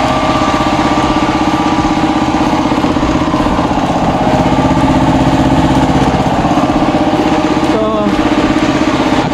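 A loud, steady air compressor drone runs throughout with a constant throbbing rhythm, close and unbroken, with a brief clatter near the end.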